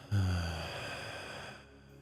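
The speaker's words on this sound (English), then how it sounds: "And exhale through the mouth." One slow, audible breath out through the mouth during a guided breathing exercise, soft and close, fading gradually over about a second and a half.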